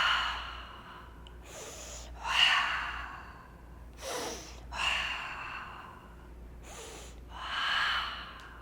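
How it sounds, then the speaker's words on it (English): A steady run of breaths pumped in and out with each seated spinal movement, sharp sniffing inhales and audible exhales alternating at a slow, regular pace, close and fairly quiet over a faint low hum. "we're going to take a little pumping breath"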